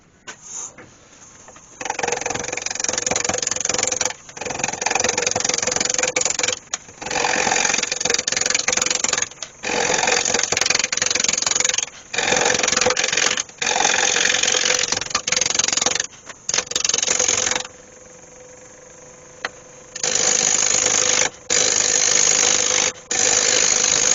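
Wood lathe spinning an apple wood bowl blank held in a chuck, cut in repeated bursts of loud scraping tool contact broken by short quieter gaps of the machine running alone, close and steady.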